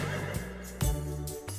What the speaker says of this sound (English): We need a horse sound.